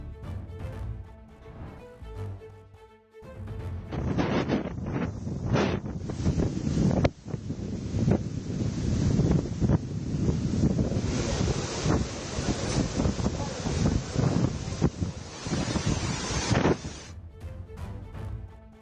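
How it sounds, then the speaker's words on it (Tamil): Strong wind and rough sea waves on the Kakinada coast during heavy rain, with continuous loud surf roar and wind buffeting the microphone throughout. "பலத்த காற்று வீசுவதால் கடல் கொந்தளிப்புடன் காணப்படுகிறது."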